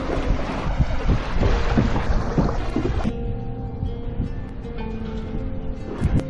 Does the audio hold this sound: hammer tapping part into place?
no